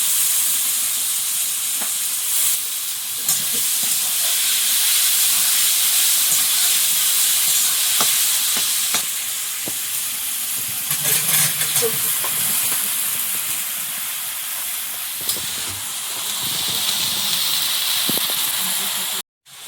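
Green peas are tipped into prawns frying in a pan for a Sundarban-style dish. A loud, steady hiss of oil runs the whole time with occasional clinks, and a voice can be heard faintly in places.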